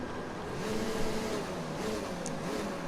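Race car engines in F1 2019 surge together off the grid at the German Grand Prix, a steady, dense mid-pitched roar with rising revs under no speech.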